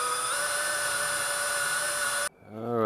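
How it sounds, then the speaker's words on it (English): A power drill whines loudly and steadily, drilling out old rib nuts on a Pit Boss smoker. It cuts off abruptly near the end and starts spinning up again. "we are drilling out the old rib nuts"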